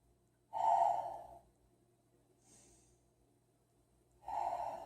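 Three deep breaths during a slow yoga stretch: two long, strong exhalations with a softer, shorter breath between them, close and alone with no talking.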